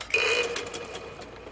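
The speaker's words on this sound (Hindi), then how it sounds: "इसी तरह हम सारे सिलाई लगा लेंगे" A sewing machine runs in a brief burst while stitching a kurta hem, a close mechanical whir with a steady hum.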